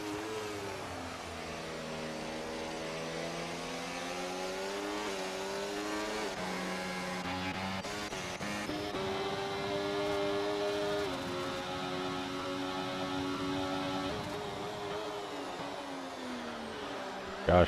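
Racing game Formula 1 cars at the Las Vegas circuit, several engines screaming and revving through gear shifts, loud and steady throughout with brief tire squeals, no voices.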